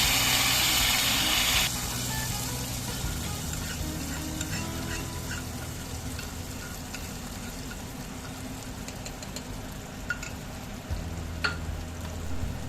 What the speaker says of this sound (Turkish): Ardından dağlamış olduğum naneyi çorbanın üzerine ilave ettim.